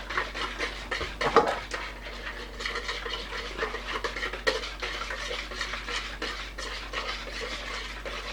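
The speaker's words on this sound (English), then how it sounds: "You want to beat these eggs well" Eggs being beaten in a bowl for French toast, a steady run of clinking, scraping whisk or fork strokes against the bowl, close and moderately loud with no talking.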